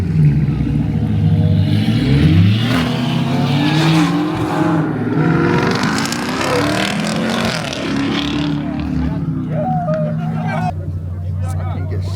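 A BMW with a B58 engine races a Dodge Durango at a street meet in Mexico, engines roaring steadily and loud for the whole stretch, with a crowd talking and shouting over it.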